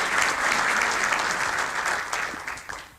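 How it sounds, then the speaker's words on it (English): An indoor audience applauds a community participant at a public meeting, a steady dense clatter of many hands filling the room, near and loud, easing off slightly at the end with no talk over it. "Let's give him a round of applause for being here and involved."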